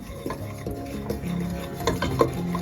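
Dry semolina roasts in a heated pot while a spoon stirs and scrapes against the metal, a series of close clinks and scrapes over a low sizzle.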